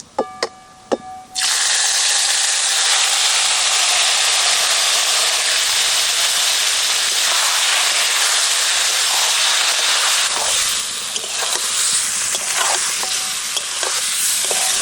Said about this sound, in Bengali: গোটা জিরে জিরেটা হালকা পুড়ে এসে এবার মাখিয়ে রাখা মাছ দিয়ে দিচ্ছি